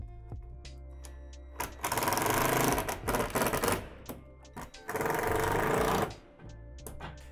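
Power driver sending screws into plastic roof panels of a Lifetime 10' x 8' outdoor storage shed, with two loud, rapid buzzing bursts separated by short pauses and light clicks, close and without talk.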